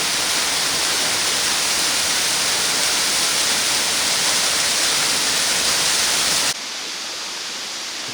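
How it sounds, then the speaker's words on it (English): Water rushing steadily in a stream in Phouphasouk National Park, Laos, a dense close hiss that holds for several seconds before dropping to a quieter, thinner flow near the end. "so there's still a bit of water running"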